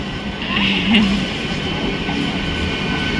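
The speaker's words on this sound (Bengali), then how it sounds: "একটা ট্রেন এসছে বসে বসে দেখছি" A local train rumbles and clatters nearby as it arrives at a Kolkata station, with a faint metallic squeal, amid a busy background of voices and station noise.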